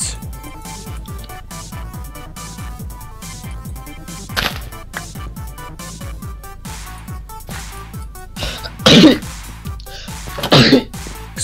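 During a German Minecraft let's-play, a person gives two sharp, loud sneezes near the end, bursting over a constant bed of game music and effects.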